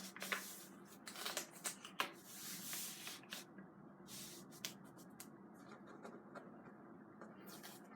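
A sheet of watercolour paper bearing a wrinkled painting is handled and smoothed flat, with faint intermittent rustles and crinkles, close but quiet.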